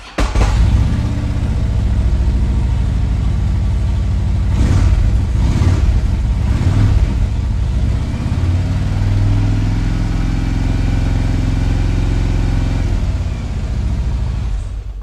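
A Harley-Davidson Road King motorcycle engine starts and settles into a steady, loud idle close by, with a few throttle blips early on and a continuous low rumble throughout.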